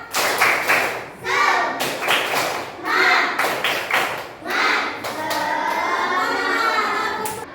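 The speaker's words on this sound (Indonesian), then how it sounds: "Kita ice breaking dulu supaya semangat. Tepuk semangat." A classroom of children performs a rhythmic clapping cheer as an ice-breaker, with sharp, patterned bursts of claps and taps throughout and young voices chanting along between them.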